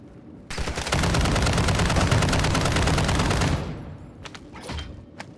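Rapid, loud automatic gunfire in Call of Duty DMZ, a sustained burst of shots lasting about three seconds that cuts off abruptly, followed by a few scattered quieter shots.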